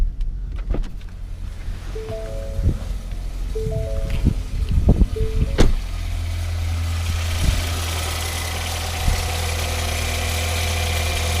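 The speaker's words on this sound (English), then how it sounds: "I'm just going to start the engine now and I'll show you what that's like when it's running." A few mechanical clicks and whirs lead into a Ford Mondeo engine turning over and catching, then settling into a steady, low idle rumble.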